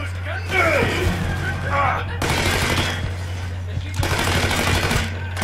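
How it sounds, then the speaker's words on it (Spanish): Gunfire in the Mafia III video game, bursts of rapid shots and thumps at moderate loudness, mixed with someone talking. "hay alguien que me está disparando y no sé quién leches es"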